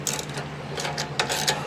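A hand ratchet clicks steadily while snugging bolts down on a neglected Cub Cadet riding mower, a fast rasping pawl sound with occasional sharper strokes, close and continuous over a low hum, no talking.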